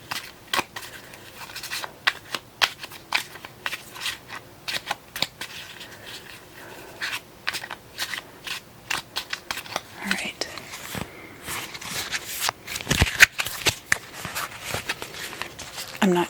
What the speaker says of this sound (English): I'll shuffle some cards.